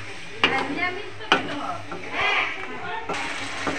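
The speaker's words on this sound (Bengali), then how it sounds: "জলটা দিয়ে একটুখানি ফের কষিয়ে নেব।" Spice paste stir-cooked in a pot with a splash of water for a Bengali hilsa fish curry, with a soft sizzle and a few sharp scrapes and clanks of a spoon against metal, under background talk.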